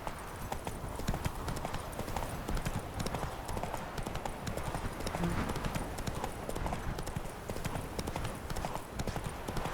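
Roach, the horse in The Witcher 3, gallops with rapid, dense hoofbeats pounding steadily and close throughout, with a voice speaking over them.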